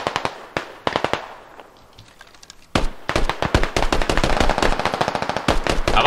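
An American machine gun firing in the military shooter game Squad, sharp rapid bursts of shots with a short lull, then a long loud continuous volley up close.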